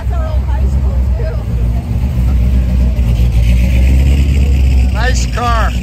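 A car engine idles nearby at a Cars & Coffee gathering at Oro Valley's Market Place, a steady loud low rumble throughout, with brief chirping birdsong near the end.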